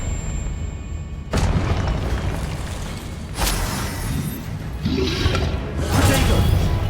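Confringo fire spells explode in Hogwarts Legacy: four sharp, booming blasts land a second or two apart over a steady, dense bed of game ambience.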